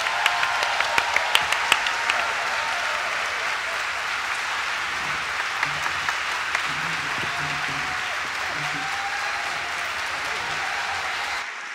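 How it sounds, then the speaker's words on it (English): An audience at a religious conference breaks into sustained applause, a dense, even wash of clapping filling the room, with a few sharper individual claps near the start and faint voices underneath. "let's give a round of applause for Father Louis Merosne."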